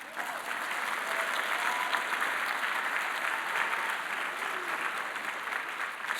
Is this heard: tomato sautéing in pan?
no